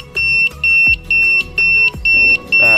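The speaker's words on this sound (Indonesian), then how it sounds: "Jadi ini suara ini adalah suara anti lupa untuk mematikan lampu sein ya." Motorcycle turn signal reminder buzzer plugged into the flasher socket, sounding loud, close piercing beeps in a steady rhythm, about six even pulses with short gaps, alone without talk.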